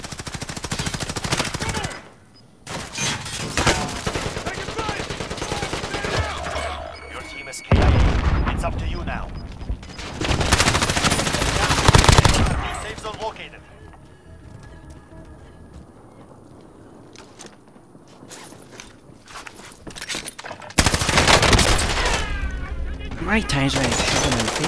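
Gunfire rattles through a Call of Duty Warzone match, with repeated bursts of automatic shots and loud booms coming in waves, sometimes close, with quieter gaps between them, while players shout over the action.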